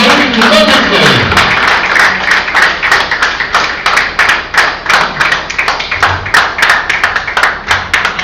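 An audience claps to welcome a speaker at an event, brisk scattered applause settling into a steady rhythmic clap, loud and close throughout.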